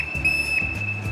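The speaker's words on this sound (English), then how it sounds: "The first will be 1 whistle blast, which means stop or to get the attention of another on-water safety provider." One sharp, steady whistle blast used as an on-water safety stop signal at a triathlon swim, a single continuous high tone lasting about a second, close and alone.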